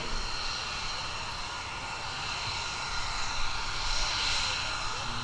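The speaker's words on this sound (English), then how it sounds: "As our P-51 flown by Tommy Williams and our F-22 Raptor flown by Major John Cummings taxis back to the parking" A P-51 and an F-22 Raptor taxi at the 2015 New York Airshow, a steady distant engine roar and whine that holds evenly across the airfield at moderate loudness.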